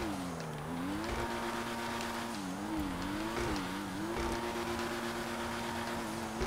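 Ocelot Pariah sports car in GTA 5 drifting, its engine droning loud and steady with pitch rising and dipping as the throttle is worked, continuous throughout with faint tire noise.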